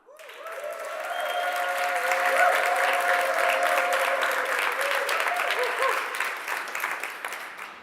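A crowd at a VR technology convention stage event claps and cheers loudly on cue, sustained for several seconds with raised voices running through the applause.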